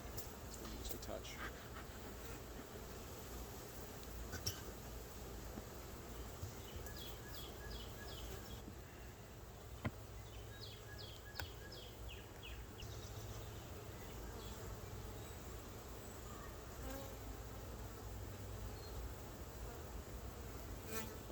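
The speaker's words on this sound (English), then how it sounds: "Smoker is really messing with the bees" Honeybees at a hive being split with a double screen board, stirred up by smoke from a beekeeper's smoker, make a dense, continuous close-up buzz with occasional faint clicks and handling noises.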